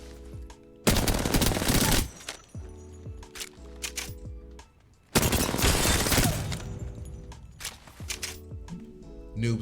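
Bursts of automatic weapon fire in the shooter game Apex Legends, as hip fire shifts into aimed-down-sights shooting: two long, loud sustained volleys separated by quieter stretches of scattered single shots and clatter.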